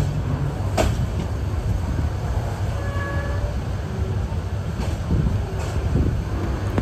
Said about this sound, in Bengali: আমাদের বিশাল দেহি আন্তনগর পর্যটক এক্সপ্রেস ছেড়ে যাচ্ছে তার পরবর্তী গন্তব্য চট্টগ্রামের উদ্দেশ্যে।